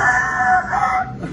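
A single loud, close rooster crow, drawn out for about a second before trailing off.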